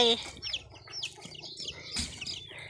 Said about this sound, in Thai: อันนี้ไก่พึ่งมาใหม่นะคะใช่ไหมแม่